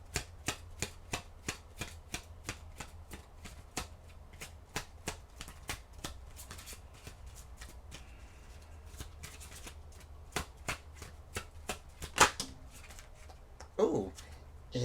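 Oracle cards being shuffled by hand, a close, quiet run of sharp rhythmic riffling snaps repeating steadily for several seconds, followed by a few softer scattered taps and rustles.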